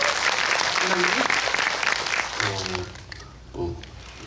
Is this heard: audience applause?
yes